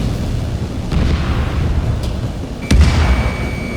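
A missile strike in Ace Combat 7 lands as a sharp, heavy boom over a constant dense rumble of jet and battle noise, with a couple of fainter thuds just before it.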